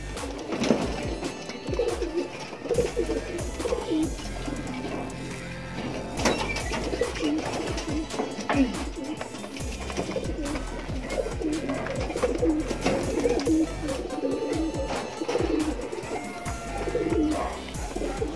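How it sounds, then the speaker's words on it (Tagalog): Caged pigeons coo steadily and repeatedly at close range, their low rolling calls continuing without pause over a faint background. "dito nga pala nakakulong yung dalawa nating ibon"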